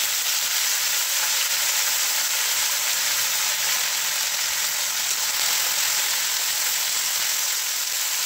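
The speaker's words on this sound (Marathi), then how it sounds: "कढीपत्त्याची जेव्हा फोडणी बसते ना तेव्हा सगळं गॅस भरलं जातं, सगळीकडे उडलं जातं" Curry leaves tempering in hot oil for a Marathi pithla, a loud, dense, steady sizzle and crackle close to the mic throughout, with no talk.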